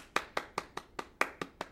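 Hands clapping in a steady, even rhythm, eight sharp claps about a fifth of a second apart, close and crisp with no voices.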